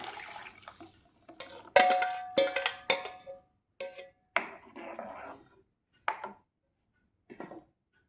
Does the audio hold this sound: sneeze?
no